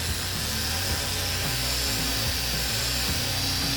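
A machine sander with a fine 3000 grit disc grinds steadily and continuously on car paint, a dense buzzing whir with a low rumbling drone underneath and no pauses.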